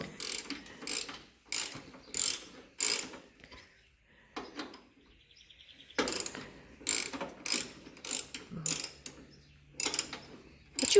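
A hand wrench ratchets on the pulley plate of a Briggs & Stratton engine in quick clicking bursts of four or five strokes, with short pauses between sets and a faint hum in one gap.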